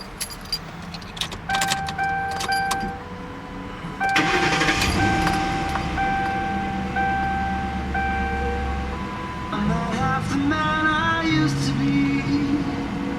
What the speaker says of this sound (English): Let's fire her up real quick.